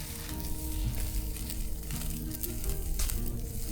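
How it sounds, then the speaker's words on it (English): Steaks sizzling over a campfire at a state park: a dense, steady crackling sizzle with popping fat, close and continuous, no voices. "Steaks over a fire."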